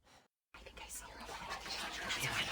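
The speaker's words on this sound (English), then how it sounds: "she heard whispering." Breathy whispering voices inside a house in the video game What Remains of Edith Finch, faint at first and then a steady hushed murmur that grows slightly after a brief silence, with no clear words.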